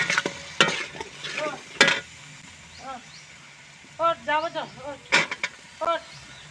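Green peas stirred and frying in a pan, with sharp scraping strokes and a low sizzle between bursts of someone speaking nearby.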